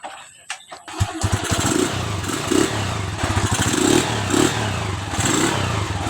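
A Honda TMX 155 motorcycle engine converted to run on battery DC supply starts up after a second of quiet, then idles loudly and steadily with a chugging, clattery rhythm and slight revving surges.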